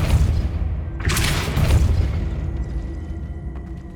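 A Depulso force spell cast in Hogwarts Legacy lands as a single heavy boom, a sudden bright burst that swells and rumbles for about a second before fading into low background ambience.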